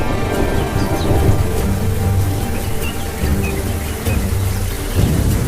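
Heavy rain pours steadily during an African thunderstorm, with low rolling thunder rumbling beneath the dense hiss of drops and a few faint bird calls.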